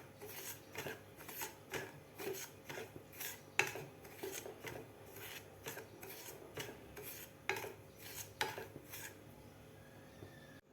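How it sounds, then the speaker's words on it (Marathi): Semolina dry-roasting in a pan over medium heat without ghee, stirred steadily: a dry, raspy scrape of spoon on metal repeats in an even rhythm, close and moderately loud, with no talking. "सुरुवातीला आपल्याला रवा भाजून घ्यायचा आहे."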